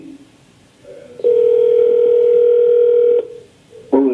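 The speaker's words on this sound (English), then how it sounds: "Kathy's on the phone" A loud, steady telephone tone sounds for about two seconds as a caller joins a meeting by phone, then cuts off, with a brief burst of sound just after.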